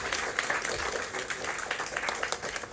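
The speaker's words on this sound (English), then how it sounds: "A bigger round of applause, please." Applause from an audience at the inaugural event of a press federation, a dense patter of clapping lasting the whole stretch, moderately near and fairly quiet.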